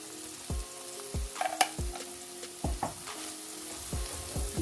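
Chicken bread filling being sautéed in a pan, with steady close sizzling and repeated stirring scrapes and clinks of a spoon against the pan.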